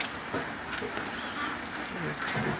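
Ducks kept in farm housing for about 20,000 birds, honking and quacking in a steady noisy chorus, with faint voices in the background.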